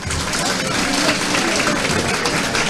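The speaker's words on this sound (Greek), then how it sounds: "αποχωρεί και παίρνει χειροκρότημα από την κερκίδα των γηπεδούχων" Applause from the home supporters' stand at a Greek third-division football match between Volos and Amvrysseas Distomou, a dense steady wash of clapping and crowd noise that fills the stadium and stays loud throughout.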